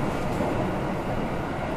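A Keikyu electric train on the Airport Express service toward Haneda Airport runs with a steady, loud, continuous rumble and hum, heard alone with no talking.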